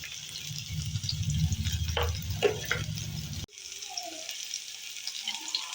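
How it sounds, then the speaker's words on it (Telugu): Cardamom, cloves and cinnamon fry in oil for a paneer biryani, making a soft, close crackle with light stirring over a low hum. The sound breaks off midway and continues more quietly. "ఇప్పుడైతే ఇలాచి లవంగా చెక్క వేసుకుంటున్నా ఇవి దూరగా అయ్యే వరకు వేయించుకోవాలి"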